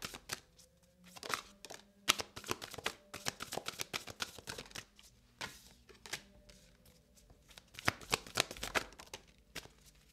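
A tarot deck, the Divine Masters cards, is shuffled close up, with quick riffling and slapping bursts of crisp card noise, fairly quiet and with no talk.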